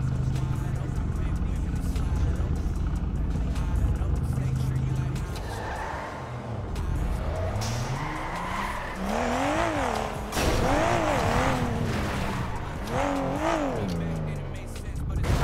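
A car in a roleplay driving game revving and accelerating, engine pitch climbing and falling in repeated surges, with tire noise and a voice talking over it.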